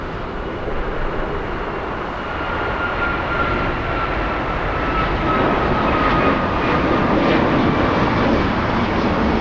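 An Aeromexico Boeing 787 jet airliner at LAX produces a steady, loud engine roar that builds slightly over the span, with a thin high whine running through it and no talking.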